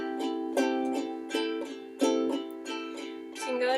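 Ukulele strummed down with the thumb and up with the index finger, clear alternating strokes ringing in a steady rhythm of about eight strums, close and moderately loud with no talking.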